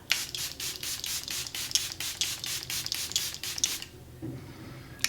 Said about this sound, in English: That is the Charlotte Tilbury setting spray